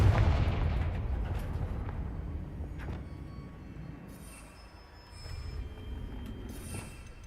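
A Confringo fire spell explosion in the video game Hogwarts Legacy, a heavy, booming burst at the start that rumbles and slowly fades, followed by faint crackles and scattered game effects.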